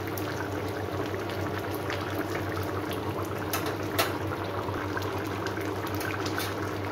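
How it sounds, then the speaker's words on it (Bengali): Jackfruit curry (enchorer kalia) boiling in a pot, a steady, close bubbling and hissing simmer that runs throughout with no talk. "তরকারিটা আমার প্রায় হয়ে এসছে, আর 2 থেকে 3 মিনিট ফোটালেই এটা হয়ে যাবে কমপ্লিট"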